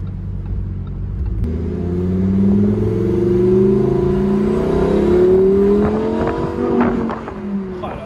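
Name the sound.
Lamborghini Huracan Evo engine revving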